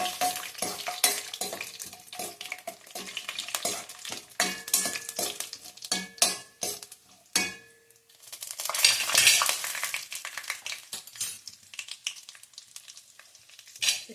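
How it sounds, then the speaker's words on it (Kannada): Cashews frying in a pan on the way to golden for a paneer peas pulao, with bursts of sizzling and repeated scraping and stirring of a spatula against the pan, rising and falling in loudness. "ಸ್ವಲ್ಪ ಗೋಡಂಬಿ ಗೋಲ್ಡನ್ ಕಲರ್ ಬರಬೇಕು, ಆ ಥರ ಫ್ರೈ ಮಾಡ್ಕೊಳ್ಳೋಣ"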